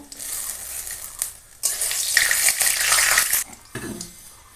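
Panch phoron, dried chilies and bay leaves hitting hot oil, a sudden loud crackling sizzle that flares up, holds for over a second, then cuts off and returns faintly.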